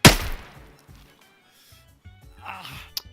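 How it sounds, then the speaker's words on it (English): A sharp gunshot in the Arma military shooter with ACE medical opens loud and close, its crack fading into a decaying tail, followed by quieter low rumbles and a brief pained vocal sound toward the end. "I'm going to shoot him again"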